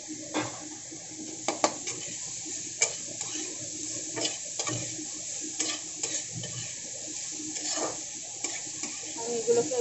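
Sizzling in a pan for an egg vegetable fry, with chopped ingredients just poured in and stirred: steady close frying hiss broken by scattered scrapes and clinks of a spoon against the pan.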